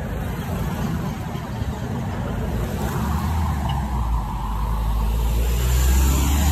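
A pickup truck with passengers riding in the back drives along a road in Vanuatu, its engine and tyre rumble a continuous, close, steady drone throughout.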